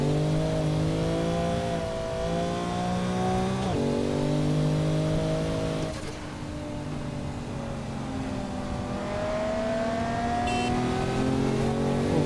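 A car engine revs in the racing game Forza Horizon 5, a continuous loud drone whose pitch climbs and falls through repeated shifts and surges, with no talking over it.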